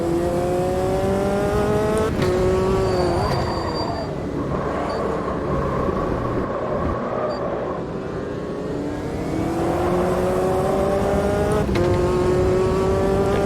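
A race car lapping Jerez in Automobilista 2, its engine revving up through gears and dropping on braking, with rising and falling pitch and a brief tire squeal.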